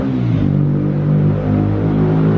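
A motorcycle engine revs hard, loud and close, holding a steady, rumbling roar with slight surges for a couple of seconds and no talking over it.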